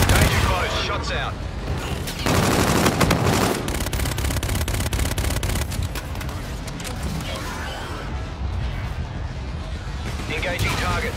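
A video game airstrike rumbles with heavy explosions and bursts of rapid gunfire, loud and continuous, while radio-style voices talk over the barrage.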